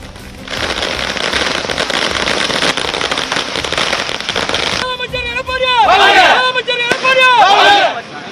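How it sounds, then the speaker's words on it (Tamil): Firecrackers burst in rapid crackling volleys at a political party celebration in Tirunelveli, loud and dense throughout, with voices rising over the bangs in the later part. "பட்டாசு வெடித்தும்"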